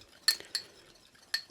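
A spoon clinks against a bowl while espresso pudding slurry is stirred, giving a few sharp, light metallic taps spaced unevenly, quiet and close with no talking.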